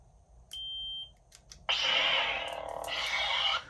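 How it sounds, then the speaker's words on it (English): A Graflex Supreme lightsaber gives one clear, thin electronic beep in its volume control menu, followed by a loud, harsh burst of hissing blade sound that surges twice. "So hearing that beeping noise means you're in the volume control menu"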